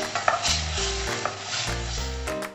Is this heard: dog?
no